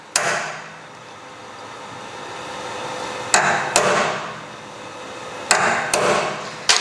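A hammer drives a steel center punch into a trailer chain link, giving sharp metallic strikes that mostly fall in quick pairs separated by pauses, close and loud, with no talking.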